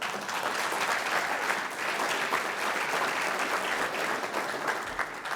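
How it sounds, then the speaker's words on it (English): Sustained audience applause at the 2013 SURFER Poll Awards, a dense even wash of clapping from a large crowd filling the whole stretch at steady loudness. "I think they deserve a big round of applause for that."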